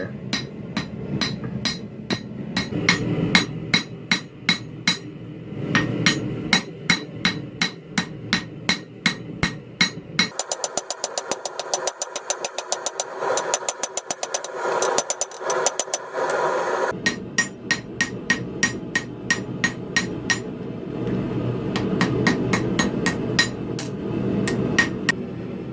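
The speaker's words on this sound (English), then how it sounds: "I'm just working on forging this thing into a nice thin rectangular piece of" A hammer strikes copper on an anvil, forging it into a thin rectangular piece in fast, loud, ringing blows that come in bursts with short pauses between runs.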